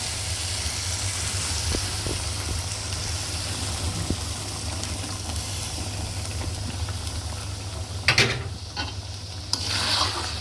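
Meat frying golden in a pan hisses steadily under a low constant hum, with a few scraping stirs near the end, close and continuous, no voices.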